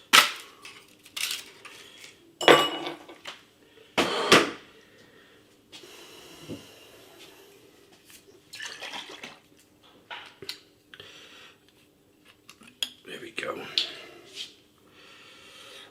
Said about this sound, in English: I'm filling 2 glasses with ice